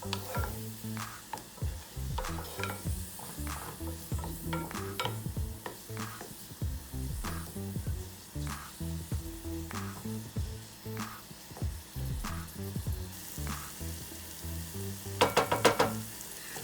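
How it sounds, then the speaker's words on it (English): Vegetables for a vegan beefy queso sweat in a pan seasoned with salt and pepper, a steady sizzle broken by repeated tossing scrapes and clatters, with a quick burst of rattling near the end. "just get those tossed again and let them sweat a little longer"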